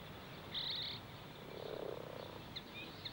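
A frog croaks in a suburban London garden, a few short rasping calls at a modest distance over a quiet outdoor background, with faint chirps in between.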